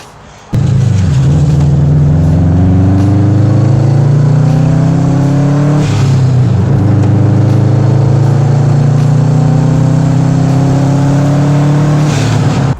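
A Subaru Impreza WRX engine gives its deep, burbling rumble, loud and close, revving up in repeated rising pulls with a brief dip between them, and no talk.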